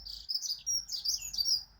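Bird chirps and tweets come in quick bright bursts, moderately close and repeated across the stretch over a quiet low rumble, with no one talking.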